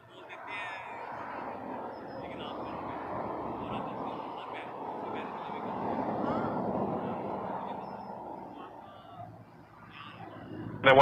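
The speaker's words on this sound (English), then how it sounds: "Citation coming in." A Citation jet arrives at Toronto Pearson airport, its engine noise swelling and fading at a moderate distance, with voices talking over it and a sharp burst at the very end.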